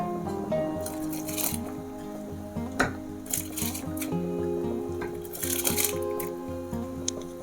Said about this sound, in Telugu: ఈ వాటర్ ఇందులో రైస్ వేసుకుందాము